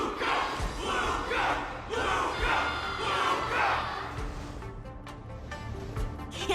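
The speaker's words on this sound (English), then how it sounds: "Everyone's cheering for you" Crowd roaring and cheering in a Honkai: Star Rail tournament arena, a dense wall of massed voices swelling in waves for about four seconds before easing into lower, thinner background noise.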